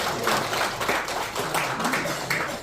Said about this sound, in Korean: 우리 한번 박수로 축복합시다